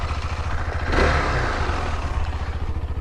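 A 2020 KTM 390 Adventure single-cylinder engine with the stock muffler runs with a steady thrumming pulse, swelling briefly as it revs near the start before settling back to a moderate, fairly quiet drone.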